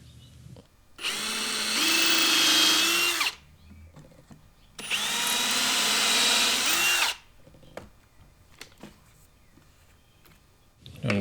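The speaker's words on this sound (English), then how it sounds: "two screws installed before I drill the rest of them, so it holds it in place." A power drill drives screws into a wooden shooting board in a workshop, with two long, loud whirring bursts separated by quieter pauses and small handling knocks, and no talking.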